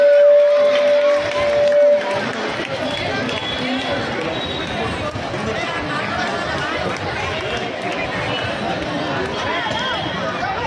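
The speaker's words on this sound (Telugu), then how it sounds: "గట్టిగా చప్పట్లమ్మా, చప్పట్లతో వాళ్ళని ప్రోత్సహించండి." An audience applauding students at a Red Cross event in Yousufguda: dense, sustained clapping mixed with crowd chatter, following a brief steady tone at the start.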